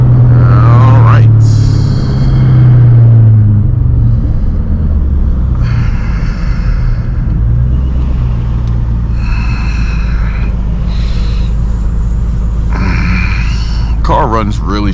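A 500 hp 2003 Cobra engine drones loud and steady at low pitch while driving, a continuous rumble with someone talking over it now and then.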